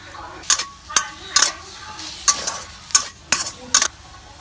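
Shrimp with curry paste, chilies, green peppercorns and shredded kaffir lime leaves are stir-fried over low heat, sharp spatula scrapes against the pan recurring roughly every half second over a faint, steady sizzle.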